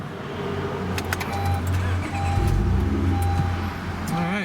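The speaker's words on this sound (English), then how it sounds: "let's go ahead and start up the car for you guys" A 2016 Honda Accord Coupe engine turns over and settles into a steady, close idle hum that continues for several seconds.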